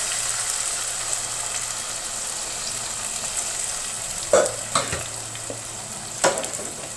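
Gobi manchurian, cauliflower pieces, frying in hot oil with a steady close sizzle throughout, broken near the end by a few sharp clinks of a utensil against the pan.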